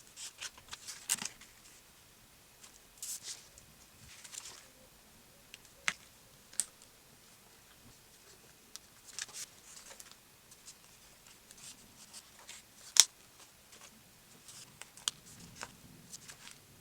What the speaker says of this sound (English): I'm going to need to trim a little bit of this down